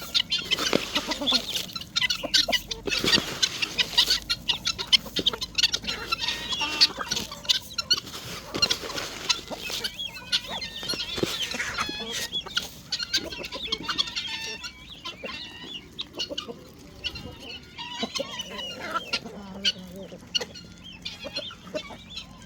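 Breeding hens cluck and chatter steadily on a chicken farm, many birds close by in a busy, continuous flock with scattered sharper calls.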